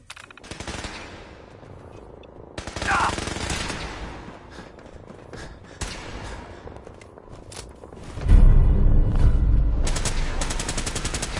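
Sustained gunfire in Fallout 4: long strings of rapid automatic shots, some close and loud, some more distant, with a heavy rumbling barrage building near the end.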